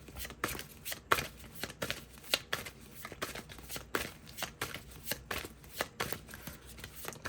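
Tarot cards are shuffled in repeated riffles and soft slaps, a close, rhythmic flurry of card noise with no voices.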